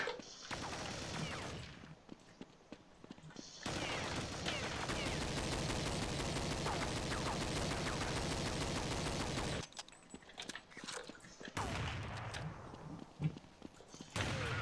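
Rapid bursts of automatic gunfire from the PC shooter Counter-Strike 1.5, dense sustained volleys with brief pauses between, loud and continuous with faint background sounds.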